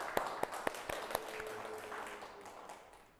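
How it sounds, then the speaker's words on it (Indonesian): Audience applause in a high school classroom session, opening with a few distinct sharp claps that quickly blur into a softer, thinning patter of clapping that fades out toward the end. "Kita beri tepuk tangan"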